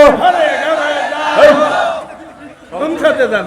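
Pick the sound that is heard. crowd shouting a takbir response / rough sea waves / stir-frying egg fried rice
crowd shouting a takbir response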